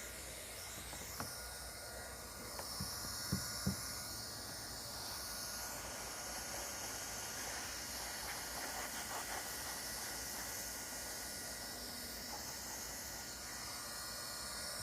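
Continuous steady hiss of a hot air welder running over a thermoplastic roofing membrane at an outside corner, with a few faint knocks and handling taps early on.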